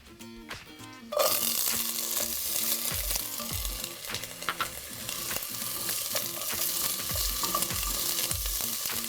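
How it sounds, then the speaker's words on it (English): Sliced carrot and vegetables sizzle in a hot pan for a vegetarian Chinese dish, starting with a sudden loud hiss after a brief quieter moment, then steady frying with intermittent clattering stirs. "Give it a quick little stir."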